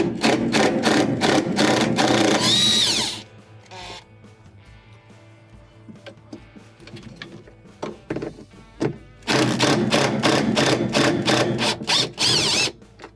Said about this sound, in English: Remove these screws and set it aside.